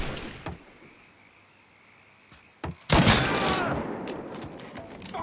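Gunfire from a Mafia 3 firefight: a few scattered early shots, then a loud dense burst of rapid shots that settles into a sustained noisy clatter of continued fire.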